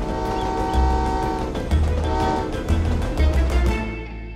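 A train rumbles past close by, its horn sounding in several long blasts over the steady roar of the wheels.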